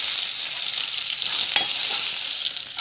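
Shallots and garlic with chana dal sauté in hot oil in a pan, giving a steady, close, bright sizzle with a couple of soft stirring clicks.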